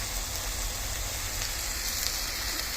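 Bacon sizzles in a pan for bacon butties at a solo camp in a woodland car park, a steady, close, even frying hiss with no pauses.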